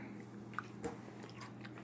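A crunchy cricket eaten as a snack, with a sharp bite followed by a few soft, close chewing crunches, quiet and without talk.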